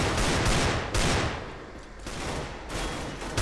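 Rapid gunfire from the Counter-Strike video game, several sharp bursts of shots in quick succession, loud and close with short gaps between volleys.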